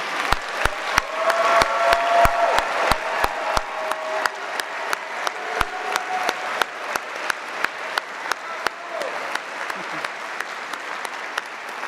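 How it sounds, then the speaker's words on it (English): Applause at a university convocation ceremony in a large hall, a sustained patter of many hands with a few sharp, loud claps standing out near the front, slowly thinning toward the end. "could we give another round of applause"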